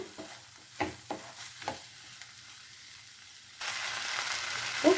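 Coriander and tomato sauté in a pan for chutney with a soft steady sizzle, a few scraping stirs early on, then the frying hiss grows louder and brighter near the end.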